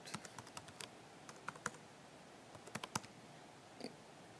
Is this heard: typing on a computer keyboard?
yes